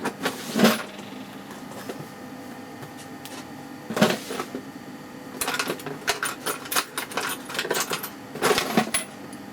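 Clicks and small clacks of swapping the presser foot on a sewing machine for a standard zip foot, used for trousers and piping; a few sharp snaps near the start and middle, then a busier run of light taps and clatter, close and moderately quiet.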